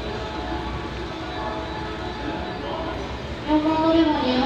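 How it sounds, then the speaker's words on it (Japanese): A JR West EF65 electric locomotive hauls 24 series 25 coaches, the special Twilight Express group train bound for Oita, into a station platform. It makes a steady, fairly loud rumble that builds near the end, with indistinct voices under it. "4番乗り場に乗ります列車は団体列車です。"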